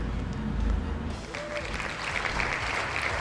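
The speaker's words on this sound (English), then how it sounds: "the clapping and dead people shouting sound effect is sure a lot more, a lot louder than the other sound effect was" A game sound effect of clapping mixed with undead crowd shouting, a dense, fairly loud wash of applause-like noise and voices that swells then holds steady throughout.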